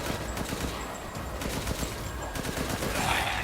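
Rapid bursts of gunfire in Resident Evil Village, sharp cracks firing in quick succession against a dense, noisy game soundscape, steady and fairly loud throughout.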